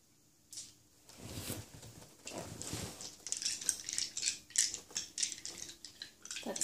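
Plastic pieces rattle and clatter in a bowl of water, faint at first, then irregular sloshing and scattered clicks growing louder.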